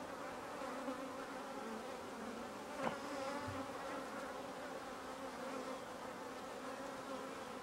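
A honey bee swarm buzzes in a dense, steady drone that fills the air evenly from start to finish, with one brief knock partway through and no voices.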